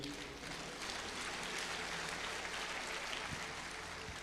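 A church congregation claps together at a service for widows, a dense, steady wash of applause that holds evenly throughout with no pauses.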